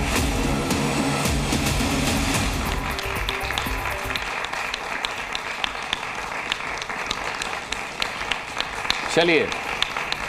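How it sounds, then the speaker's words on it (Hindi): A studio audience at a televised Hindi debate show applauds in a steady, dense wash of clapping that runs the full length, with a voice speaking briefly over it. "मैं अपनी ऑडियंस से जो कि तालियां बजा रही है"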